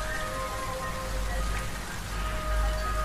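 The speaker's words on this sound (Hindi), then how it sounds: "बारिश की छींटे अंदर आ रही थी।" Steady rain splashes and patters on a surface, a continuous even hiss with no breaks.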